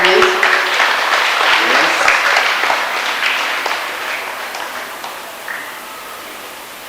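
A crowd applauds during a memento presentation at a school ceremony at St Thomas Girls' High School, Aldona: dense, loud clapping that slowly tapers off, with a brief voice near the start.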